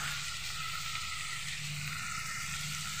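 Chicken meat fries with onions in a pan, a steady, even sizzle that holds at a constant level with no breaks, close and moderately loud.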